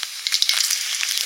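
Panch phoron whole spices dropped into hot oil, a bright, crackling sizzle with quick popping spits, loud and close, lasting just over a second with no speech.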